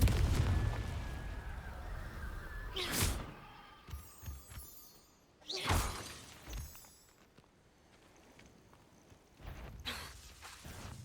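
The Confringo spell goes off in the video game Hogwarts Legacy with two loud, sharp explosive blasts several seconds apart, each followed by crackling debris, and lighter bursts and movement noises in between.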